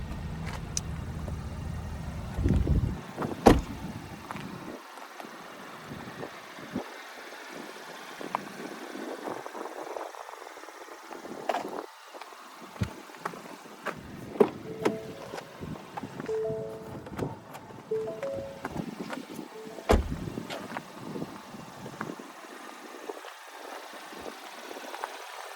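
The 1-liter EcoBoost three-cylinder engine of a 2021 Ford EcoSport S runs with a steady low rumble at moderate level, with some light clunks and faint tones over it.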